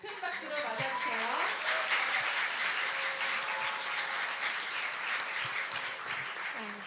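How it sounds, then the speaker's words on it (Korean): A school audience at an academic symposium claps steadily to welcome the principal to the stage, even sustained applause at moderate level with some faint background tones and sounds under it. "큰 박수로 맞아주세요."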